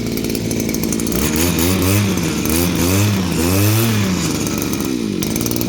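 A small Temu engine runs loud and steady at close range, its sharp, buzzy chainsaw-like drone rising and falling through several quick revs before settling back down. No one talks over it.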